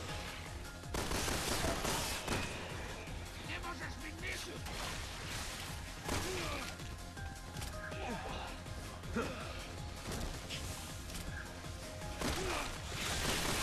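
Rapid bursts of gunfire in the Resident Evil 6 Mercenaries mode, the dense crackling shots and impacts running almost nonstop at close range while a voice talks over the action.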